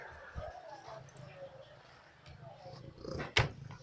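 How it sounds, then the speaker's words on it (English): A cat purring close by, a soft continuous rumble that swells toward the end, with a brief louder noise near the close and faint human voice murmuring in the background. "she's a loud purring girl too"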